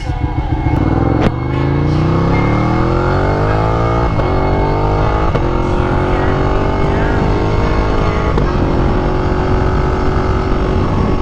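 A Ducati Panigale motorcycle engine while riding, loud and close, revving up through rising pitch sweeps with several sharp gear shifts between climbs, a strong steady roar throughout.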